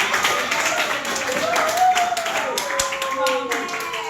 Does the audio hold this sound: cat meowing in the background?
no